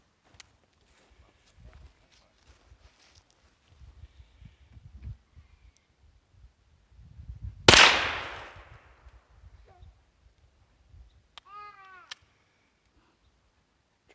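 A single handgun shot rings out at a target during an outdoor family shooting session. It is a sharp, loud crack with a short echoing tail, set among quiet shuffling and faint movement before and after.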